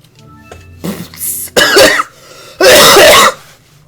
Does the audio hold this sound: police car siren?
no